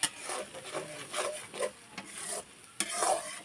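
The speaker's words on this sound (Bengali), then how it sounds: "মশলাগুলো আমি এখন ভালোভাবে মিক্সড করব।" Spices such as dry chili, coriander and roasted cumin powder being stirred into chicken skin and potatoes in a pan, a spoon scraping and rubbing in irregular strokes with a light sizzle, close and alone.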